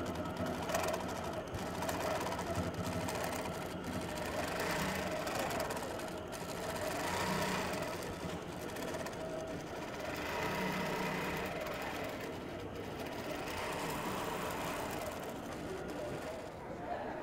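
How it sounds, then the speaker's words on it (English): An Innova Mach 3 longarm quilting machine stitching a cross-hatch pattern at a quilt show, a steady fast mechanical whir and needle patter that runs throughout beneath a busy crowd background. "now we've stitched out our cross-hatching with Innova's Mach 3 exclusive cross-hatch feature"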